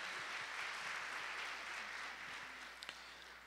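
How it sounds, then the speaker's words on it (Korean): Church congregation applause during a Sunday morning worship service: a faint, steady wash of clapping from a distant crowd that fades slightly toward the end, with a brief sharp sound near the close. "하나님께 영광의 박수 올려드리겠습니다."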